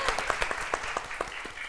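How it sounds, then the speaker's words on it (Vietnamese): An audience claps briefly at a Vietnamese dating show, a short burst of scattered, moderately loud hand claps with faint voices underneath. "Vỗ tay quý vị ơi."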